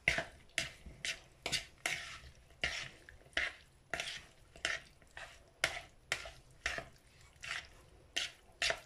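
A spoon scrapes and stirs through a chicken filling mixture in a pan, about twenty quick, rhythmic strokes at an even pace, close and fairly quiet, with no voices.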